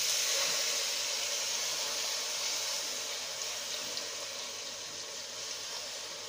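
Water poured steadily from a tap into a pot of veal pieces for blanquette de veau, a continuous close hissing rush that eases slightly toward the end.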